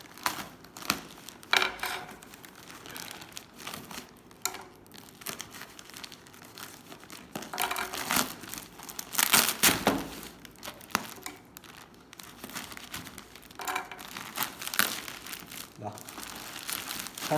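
Plastic wrap on a Temu package crinkling and tearing as it is opened, dense, busy rustling that keeps going throughout, close by, with some talk mixed in.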